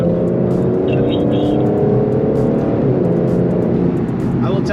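Heard from inside while driving, an Aston Martin DBS Superleggera's engine accelerates with a loud, steady, rising roar, and someone speaks over it.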